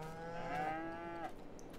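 Cows mooing in the farming video game Farming Simulator 22, with one long, fairly close low moo that rises and falls in pitch over a faint background.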